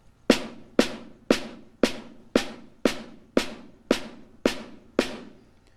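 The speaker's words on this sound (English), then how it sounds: "So your snare unaccented notes are going to sound like this" Unaccented snare drum notes played with the sticks kept within half an inch of the head, eleven evenly spaced crisp taps at a steady moderate tempo, each a short bright crack with a quick decay, close and alone.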